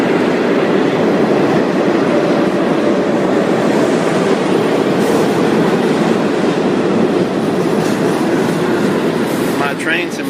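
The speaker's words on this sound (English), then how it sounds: "And here comes the train." A loud, steady rumble of a subway train bound for Brooklyn rolling into the station, with continuous rail noise and a faint squeal near the end.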